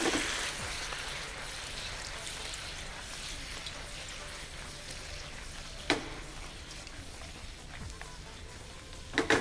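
Fried chicken pieces stirred into chilli gravy in a hot pan for Chinese chilli chicken, giving a steady close sizzle and bubbling with a few sharper scraping clicks from stirring.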